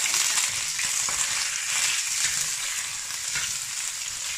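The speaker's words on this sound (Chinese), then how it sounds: "油热后，放入清洗干净的大虾" Large cleaned prawns hit hot oil in a wok and fry with a lively, crackling sizzle, close and fairly loud, rising and easing slightly throughout with no voices.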